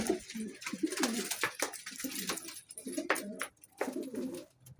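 Pigeons cooing close by in repeated soft, throaty burbling phrases that overlap and pulse irregularly, with no talking.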